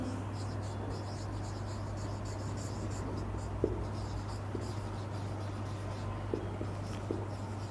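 Pen scratching out a Class 11 NCERT maths solution on paper, soft continuous strokes with a few light taps over a steady low electrical hum.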